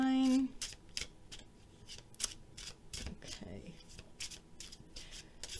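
A deck of tarot cards being shuffled by hand, giving a run of repeated soft riffling and sliding bursts at close range, with a faint voice and a brief tone at the very start.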